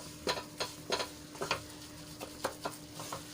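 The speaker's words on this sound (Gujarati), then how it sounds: "તો આ રીતે આપણે સતત એને હલાવતા જ રહેવાનું છે જ્યાં સુધી આપણો લોટ શેકાઈ જાય" Flour roasting in a pan while being stirred, giving a string of soft scraping strokes at an irregular pace, close up over a faint steady sizzle, with no talking.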